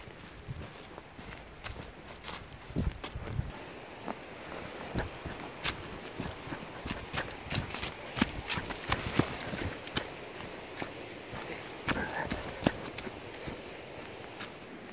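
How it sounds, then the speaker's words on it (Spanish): Several people walking along a trail toward a waterfall in the Mixteca region of Oaxaca, steady uneven footsteps crunching nearby with faint outdoor wind and no talk. "Los compañeros de trabajo, estamos caminando."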